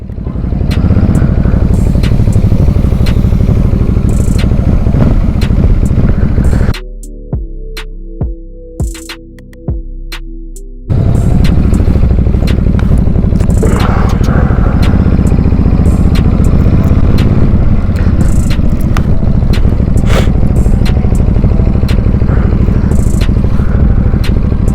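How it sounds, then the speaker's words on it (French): A Ducati Hypermotard engine drones loudly and steadily while riding in Toulouse, with wind rush over it, briefly cutting out to a quieter idle before the ride resumes. "toutes les parties où je laisse le son de la moto"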